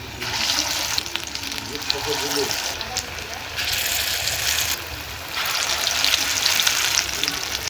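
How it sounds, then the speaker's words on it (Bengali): Ash gourd kofta balls frying in hot oil, a loud continuous sizzle and crackle that swells in bursts as more balls go into the pan. "তো এবার গোল করে নিয়ে তেলে ছেড়ে দেব।"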